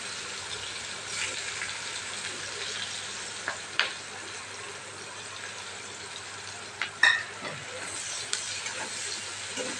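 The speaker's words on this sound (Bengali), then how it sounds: "এবার তেলের মধ্যে পেঁয়াজ কুচি, গোটা লঙ্কা আর টমেটো দিয়ে দিচ্ছে ভাজার জন্য।" Chopped onion, whole green chillies and tomato fry in hot oil for a wedding-style fish curry, a soft continuous sizzle with a few sharp spatters and stirring clicks, no talking.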